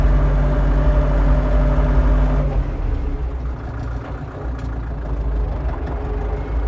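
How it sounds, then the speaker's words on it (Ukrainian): A tractor engine rumbles steadily nearby with a deep, throbbing chug that eases slightly partway through. "Тому ми взяли трактор"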